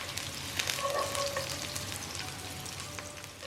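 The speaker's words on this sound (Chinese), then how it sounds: "接着我们加入大蒜，爆炒1分钟左右，直到释放香气为止。" Garlic and ginger sizzle in hot oil in a wok over high heat, with a dense, steady crackling hiss and a few faint clinks, without speech.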